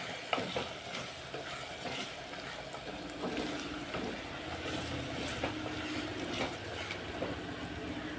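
Oil sizzles and crackles steadily in a pan as fenugreek tamarind stew cooks, a continuous mid-level frying hiss with faint stirring and no talk.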